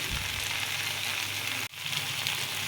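Mixed vegetables fry steadily in a pan for a vegetarian curry as ginger paste goes in, with a close, constant bright sizzle that dips for a moment and then comes right back.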